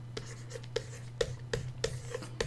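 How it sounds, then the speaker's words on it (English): Handwriting on paper with short tapping strokes in a steady, repeated rhythm, close and fairly quiet over a constant low electrical hum. "let me write that down"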